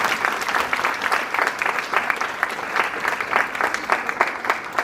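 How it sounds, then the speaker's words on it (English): An event audience claps in a sustained round of applause, many hands at once in a dense, even patter that holds steady throughout. "Can we please give them a big round of applause?"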